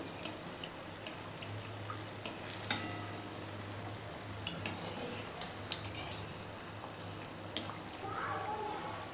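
Chilli bajji fry in hot oil over a medium flame, giving a soft, steady sizzle with faint scattered pops and ticks throughout, fairly quiet and uninterrupted.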